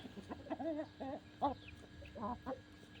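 Several hens cluck in short, repeated bursts, soft and fairly close, with brief pauses between calls.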